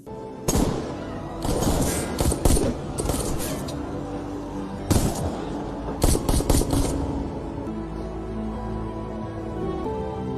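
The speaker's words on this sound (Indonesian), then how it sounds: "akibat adu tembak tadi, Camelo tewas di tempat" Gunfire in a film shootout: rapid bursts of sharp cracks in several clusters over the first seven seconds, loud and close, then fading to a lingering rumbling tail with no speech.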